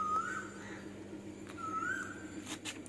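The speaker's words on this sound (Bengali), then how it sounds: "আবার এদিকে কোকিল ডাকছে।" An Asian koel calls outdoors with two rising, whistled notes a second or so apart, moderately distant above a steady low hum.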